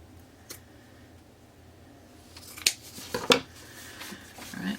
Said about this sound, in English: I'm going to trim it down just a bit. And then I'm going to cut it in half.